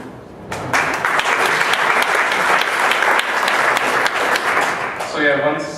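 A presentation audience bursts into sustained applause for the crowd labelers, dense clapping filling the room steadily for about five seconds before tapering, with faint voices beneath.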